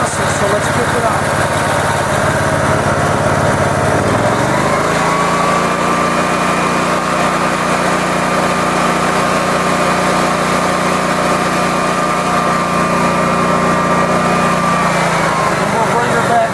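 A Generac GP15000E generator engine runs steadily at idle and then revs up to a higher, even drone that holds loud and close, with a steady pitch throughout and no talk.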